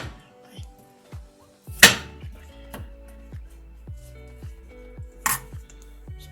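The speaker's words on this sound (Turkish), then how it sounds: "şöyle incecik incecik doğrayacağız" Rapid knife chops thinly slicing potatoes against a cutting board, a steady series of short thuds with a couple of louder clacks, close up and without talk.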